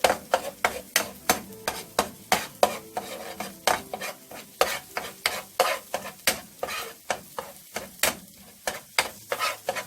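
Eggs with salt stirred and fried in a pan for fried rice, a utensil scraping in a steady rhythm of sharp clicks and taps over a continuous close sizzle, with no talking.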